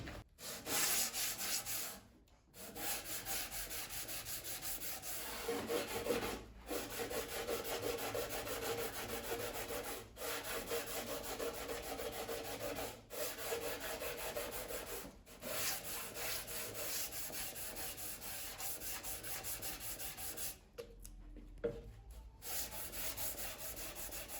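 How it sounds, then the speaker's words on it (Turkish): Rough, continuous scraping of 60-grit sandpaper rubbed by gloved hand across a wooden saz body, steady back-and-forth strokes close up with a few brief pauses, no talking. "Üzerindeki kalınlığı almak için önce 60 numara zımpara kullanacağım."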